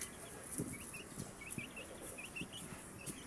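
Jungle fowl chicks forage for insects in cow dung outdoors, giving repeated soft, high peeping chirps in a busy scatter. Low scratching and pecking thuds sit under a steady outdoor background hiss.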